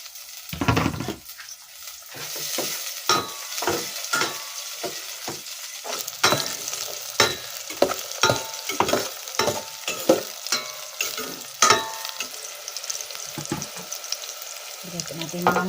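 Onion and garlic sizzle in a hot pan, a steady frying hiss broken by repeated clanking stirs of a utensil against the pan, close up and without talk.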